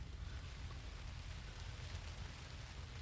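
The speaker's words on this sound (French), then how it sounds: "La pluie tombe, elle tombe, je pense que la tente, elle est bonne pour ça." Steady rain falls on a tent, a dense, even hiss with a low rumble running unbroken throughout, with no voices and no distinct individual drops.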